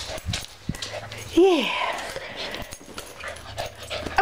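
A dog gives a short, high, rising-and-falling whimper amid faint panting and shuffling, while a person talks softly nearby.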